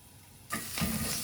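Hen of the woods mushrooms sautéing in a pan for venison stroganoff, a quiet hiss that suddenly swells into a loud, steady, close sizzle.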